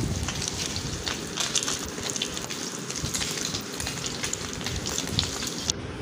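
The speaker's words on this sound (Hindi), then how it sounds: "तो अब मैंने सारे ऐसे ही फ्राई कर लिया है" Pieces of egg paneer fry in hot oil in a kadai, giving a dense, steady crackling sizzle with scattered sharper pops, close and constant throughout.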